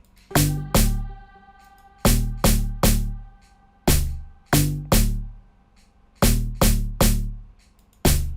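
A punchy, pitched log drum pattern with a sharp snare layered on each hit, playing a syncopated rhythm of clustered strikes with decaying tails.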